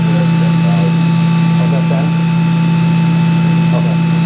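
Haas VF3 CNC mill spindle running at 10,000 RPM, a loud, steady machine whine with fixed tonal lines over a constant hum, unbroken for the whole stretch.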